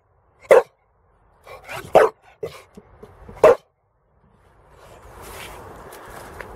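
A dog on an autumn allotment gives three sharp, loud barks with softer yips and footsteps between them, followed by a low, steady background rustle.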